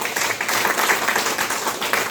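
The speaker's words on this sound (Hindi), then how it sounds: "तालियां बजाइए जोर से" A crowd at a ceremony honouring Kiran Didi in Dhulabari breaks into loud, dense applause, steady and close throughout.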